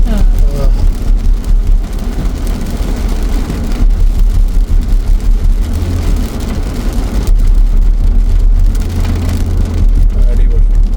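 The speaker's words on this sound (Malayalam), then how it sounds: "നല്ല റെയിൻ ഉണ്ട്" Heavy rain pours down during a night off-road drive toward the Kalba mountains in Sharjah, a loud, constant hiss drumming over the vehicle with engine rumble underneath and voices talking over it throughout.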